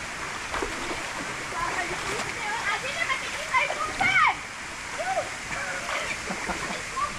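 Kalawaig waterfall at Barangay Bayang, Lanao del Sur, Mindanao, roaring as a steady broadband rush of falling water throughout, with faint voices and a few short calls audible under the water.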